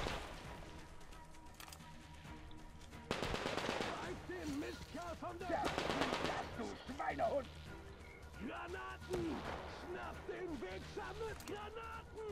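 Bursts of gunfire from the Metro Exodus video game, a survival-mode fight at a small outpost, crackle in loud volleys over game music, with someone talking throughout.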